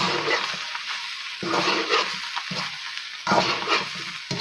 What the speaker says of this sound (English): A good glug of soy sauce to start off with. And then we'll stir this.